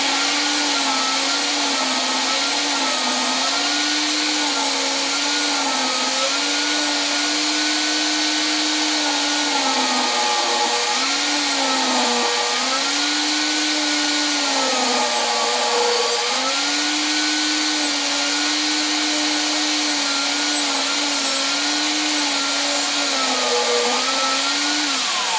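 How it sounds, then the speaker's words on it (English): A table saw cuts wood for the arm of a wooden saguaro cactus, its motor a loud, continuous whine that dips and rises in pitch as the blade bites through the board. "I'm just going to go ahead and set up the table saw. And we're going to cut that down"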